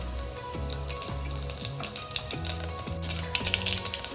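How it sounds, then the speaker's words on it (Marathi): Mustard and cumin seeds crackle and pop in hot oil, a dense close spattering that keeps going throughout. "जिरी मोहरी तडतडली"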